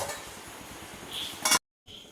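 A metal lid is placed over a pot of chicken curry with hot water added, producing a short bright clank after quiet stirring scrapes, then a moment of silence, close and clear.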